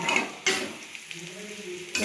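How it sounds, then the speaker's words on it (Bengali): Potatoes fry in a pan in a home kitchen, with bursts of hissing sizzle at the start and end and softer crackling, faint clinks and a low hum between them. "রাত্রিরে আলু ভাজা হচ্ছে"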